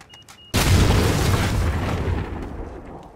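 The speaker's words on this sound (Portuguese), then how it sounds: "Aí explodiu." An explosion in Call of Duty: Modern Warfare, a sudden loud boom that bursts after a short quiet moment and rumbles on, slowly fading over a few seconds.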